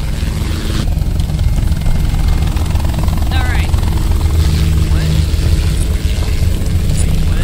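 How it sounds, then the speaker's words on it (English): Steady low, droning helicopter rotor noise in the game Chained Together fills the whole stretch, loud and continuous, with a voice speaking briefly over it. "Hey, that is a helicopter."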